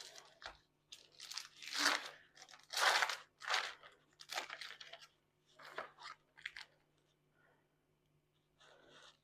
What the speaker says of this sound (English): then we're going to cut it into slices